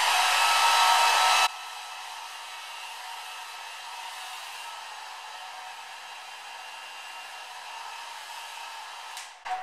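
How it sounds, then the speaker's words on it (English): A hair dryer blowing on natural 4C hair, a loud steady roar that drops to a quieter, more distant airflow after the first seconds and continues evenly, with a small clatter at the end. "So I'm just blow drying to get rid of the whitish stuff"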